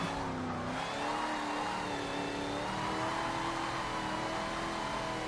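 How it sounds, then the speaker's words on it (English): Supercharged V8 engine of a Dodge Super Bee in Forza 7 holds a loud, steady whine with a high supercharger scream through a corner, tires faintly squealing, no talk. "You can hear that supercharger just screaming as we're trucking along that corner there."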